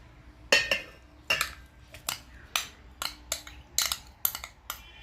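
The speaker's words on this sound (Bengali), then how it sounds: "প্রথমে আমি ওটসটা মিক্সিতে দিয়ে দিচ্ছি" Oats are tipped into a mixer grinder jar, giving a series of sharp clinks and light rattling taps against the jar, spaced irregularly about a dozen times over a quiet background.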